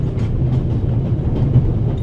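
In The Raven Remastered video game, a train runs on its rails with a close, heavy, continuous rumble and a faint clickety-clack rhythm.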